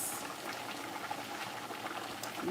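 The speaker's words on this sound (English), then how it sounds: "You hear that sizzle?" Fish fries in hot grease with a steady, faint, crackling sizzle and bubbling that holds evenly throughout.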